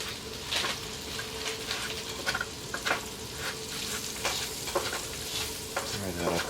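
Sausage gravy made with flour, salt and pepper sizzles in a pan at a winter campsite, a steady frying hiss broken by repeated scraping stirs and light clinks, with no talk.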